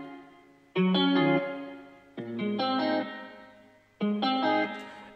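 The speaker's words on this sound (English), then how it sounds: "So if I turn the reverb size all the way up," Heavily reverberated synth or instrument chords processed in FL Studio with the reverb room size turned all the way up, three loud sustained stabs with long washy tails, no voices.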